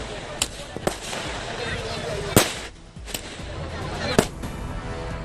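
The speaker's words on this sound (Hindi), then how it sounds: "जमकर की आतिशबाजी।" Fireworks set off by party workers at a welcome celebration for a chief minister in Karimganj, Assam: several sharp, loud cracks and bangs burst out at irregular intervals over a steady crowd din.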